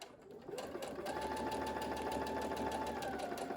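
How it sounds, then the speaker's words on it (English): A sewing machine stitches two pieces of cloth mask fabric together in a steady, continuous mechanical whir that starts after a brief pause and runs close and loud. "So sew those together."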